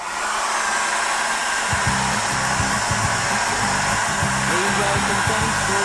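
A hair dryer blows steadily and loudly over wet acrylic paint on a woodland canvas, a continuous close whoosh with a faint motor hum, briefly joined by low rumbling handling noise.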